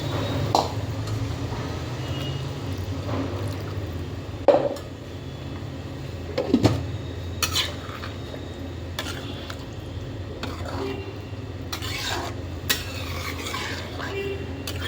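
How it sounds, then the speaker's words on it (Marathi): Hot water poured into a pan of sautéed chicken for a spicy curry, with stirring and metal pot clatter, sporadic sharp clinks over a low simmering hiss and no talk. "आपण आता याच्यामध्ये गरम पाणी टाकून घ्यायचं आहे"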